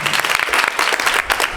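Brief burst of audience applause at a kindergarten graduation ceremony, loud, close clapping from many hands with no voices.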